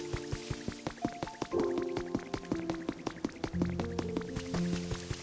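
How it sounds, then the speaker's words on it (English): Video game rain falls as steady light patter with scattered drips, under a looping melodic background score at moderate, even loudness. "It's still raining here."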